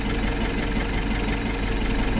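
A Nissan NV350 van engine idles smoothly and evenly, a steady unbroken hum with no variation in level across the moment.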